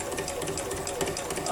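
A sewing machine runs at speed doing free motion quilting on a rainbow-arc quilt, a dense rapid mechanical chatter, close and continuous.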